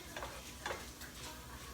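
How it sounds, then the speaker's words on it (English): Shrimp sauté in a pan alongside crisped pancetta, a soft, quiet sizzle broken by a few brief scraping stirs of a utensil, with no talking. "Move it over to the side and saute my shrimp up in there."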